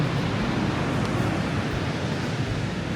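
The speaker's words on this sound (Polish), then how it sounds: "Ocean, mega długie fale mają, nie wiem, po 200-300 metrów szerokości." Ocean surf with very long swells washes continuously along a shoreline, a broad, steady rumbling roar with some wind buffeting and no voices.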